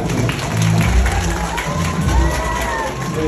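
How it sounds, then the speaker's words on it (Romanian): A crowd applauds and cheers loudly and steadily for a woman's birthday, with clapping and scattered voices filling the room. "Și noi cu toții o aplaudăm"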